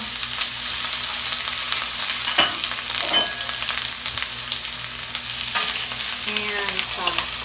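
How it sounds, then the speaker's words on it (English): Baby bok choy and okra fry in a hot pan with a loud, continuous sizzle and crackle, while stirring scrapes and a few clinks of a utensil sound up close. "So that's heated, and then I'm going to add some bok choy, baby bok choy, and some okra."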